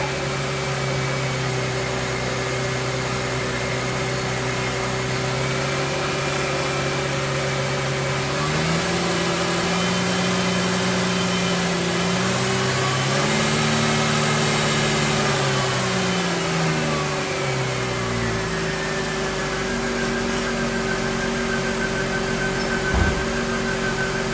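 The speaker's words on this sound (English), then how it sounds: "Let me rev it up to 1500 and then we'll see what it does." Ford Mustang engine held at about 1500 rpm with a steady mid-pitched hum and a slight rise and fall in tone partway through, close and constant, with no talking.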